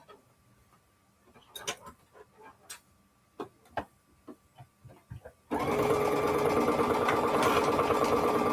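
A sewing machine stitching a paper-pieced holiday quilt block: first several seconds of separate ticks and clicks as it is set up, then a loud, steady, continuous whirring hum of fast stitching running to the end.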